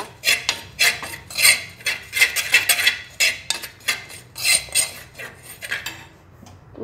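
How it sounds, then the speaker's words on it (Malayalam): Turmeric, coriander and garam masala powders being stirred together in a pan for a prawn masala: close, dry rhythmic scraping and rasping strokes of a utensil against the pan, repeated steadily with brief pauses, no voices. "ഇതെല്ലാം കൂടി മിക്സ് ചെയ്ത് നന്നായിട്ട് ഇളക്കുക."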